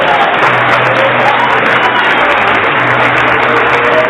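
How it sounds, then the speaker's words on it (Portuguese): A church congregation applauds loudly and continuously, a dense wash of clapping with faint cheers mixed in. "Vamos aplaudir mais o Senhor Jesus."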